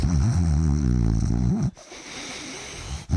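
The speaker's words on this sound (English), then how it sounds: "he had this slightly unusual habit of snoring while he was awake" A man snores loudly and rhythmically while awake, close and rumbling for about a second and a half, then stops abruptly into quieter breathing noise.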